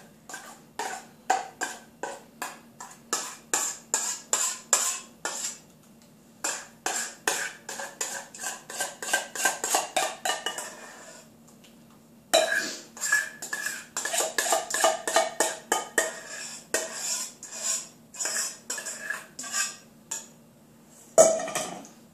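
A utensil scrapes and clinks against a microwave dish in a rapid, steady rhythm, mixing beef stroganoff for a long stretch with one brief pause.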